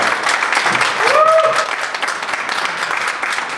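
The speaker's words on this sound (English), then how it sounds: "give a round of applause for Shawn Q with the Legacy Tribe." A live audience applauds after a performer is introduced on stage, a steady wash of clapping from many hands throughout, with a brief tonal sound briefly rising above it.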